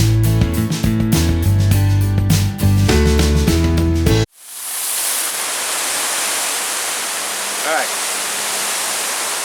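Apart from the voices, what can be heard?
hose with cone-shaped nozzle spraying pool cartridge filter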